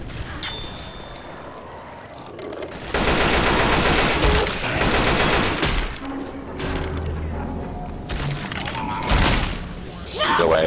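Rapid gunfire in Left 4 Dead 2 versus mode, with dense bursts of automatic shots starting a few seconds in and carrying on loud and close, mixed with clanks and game noise.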